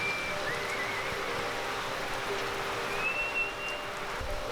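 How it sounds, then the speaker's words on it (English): Heavy rain drums on a poorly built roof in Mawsynram, India, a dense, loud, unbroken hiss of falling water heard from indoors, with a couple of faint thin whistling tones drifting over it. "so when it's raining, it's super loud."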